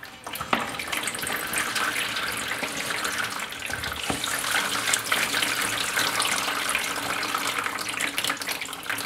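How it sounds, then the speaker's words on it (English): Apple cider pressed from pulp wound in cotton cloth inside a wringer, running as a steady liquid stream that pours continuously throughout, with a brief knock near the start and middle; no talk. "place the pulp in the cloth, wind it up, and then press out the apple cider"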